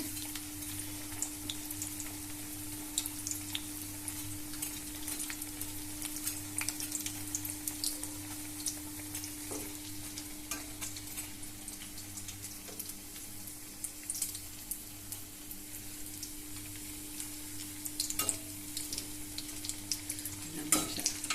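Capsicum bonda fry in hot oil with a steady, close sizzle and bubble that runs unbroken throughout, with no voices over it.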